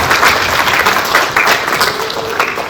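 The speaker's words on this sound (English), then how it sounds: "So go ahead, give your parents a round of applause" An audience at a 2021 junior honor society induction ceremony gives a round of applause for their parents, a loud, dense wash of many hands clapping that swells and surges steadily throughout with no talk.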